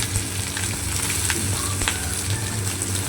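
Eggplant and potato pieces fry with five-spice seeds in hot oil in a wok, a loud, close, steady sizzle with light crackles and brief stirring sounds.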